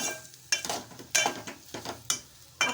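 A potato mixture seasoned with turmeric and salt is stirred in a pan, with about five distinct scraping strokes at a steady rhythm, close and clear with no talk.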